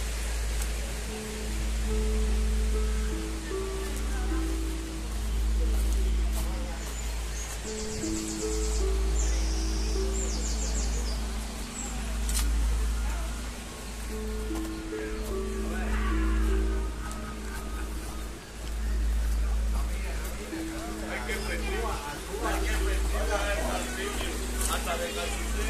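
Water flows steadily through a lush, wet spot thick with vegetation, a constant rush under faint birdsong, with a steady low hum and brief tonal sounds scattered throughout.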